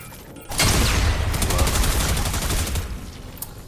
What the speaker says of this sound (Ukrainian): Можна ще на УЗІ перейти, розстрілювати. І навіть міну кинуть, вони зараз там попідриваються